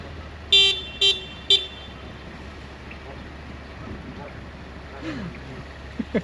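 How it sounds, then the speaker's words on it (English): Geese honk beside a road, three loud nasal calls in quick succession near the start, then fainter scattered honks over a low steady traffic hum, with a couple of sharp sounds at the end. "Check out all these geese."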